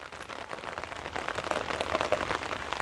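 Rain falling on a terrace garden, a steady dense patter of drops on leaves and surfaces, fairly faint and continuous with no talk.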